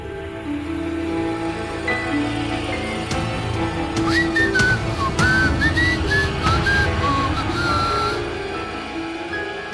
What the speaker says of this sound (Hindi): ये ऐसे सीटी बजाकर जा रहा है